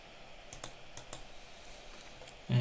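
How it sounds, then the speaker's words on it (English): A computer mouse clicked during work in an Excel spreadsheet: paired sharp clicks close together, repeated twice in quick succession, faint and close against a quiet room hum, with no talking. "I will double click on it"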